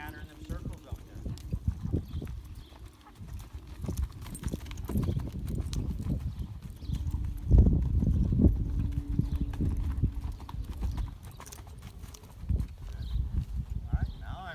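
A horse being ridden in training for competition, its hoofbeats a steady clip-clop close by, moving at a regular rhythm with scattered low thuds, while people talk intermittently over it.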